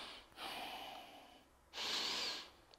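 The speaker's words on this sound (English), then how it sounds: "Listen to my breathing. I'm gonna exaggerate my breathing a little bit." Two long, deliberately exaggerated breaths during a chest press machine exercise: a softer exhale first, then a louder, sharper, close-up breath after a short pause.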